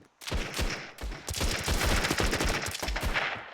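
A heavy gun fires in rapid, continuous bursts with a brief pause, loud and close, like sustained automatic fire in a game.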